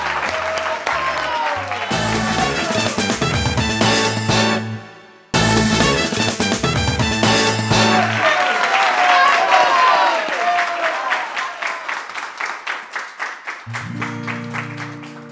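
Audience applause on a Spanish-language TV variety show, clapping mixed with loud music and a singer, continuous and fairly strong across the stretch, with brief drops in the middle.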